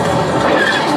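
Loud, steady rumble and rattle of a train rolling past close by on the Millennium Falcon: Smugglers Run ride at Walt Disney World, a continuous mechanical roar with faint squealing.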